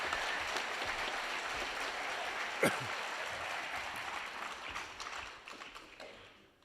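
A graduation audience applauds steadily for the 2023 graduates, a dense broadband wash of clapping with a few sharper claps and faint cheers, fading toward the end.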